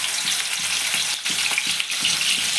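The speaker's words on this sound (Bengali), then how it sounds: "পেঁয়াজ একটু ভাজা ভাজা হোক" Sliced onions sizzle in white cooking oil in a wok for a chicken cutlet recipe, a steady, fairly loud frying hiss with soft rhythmic pulses from stirring, no talking.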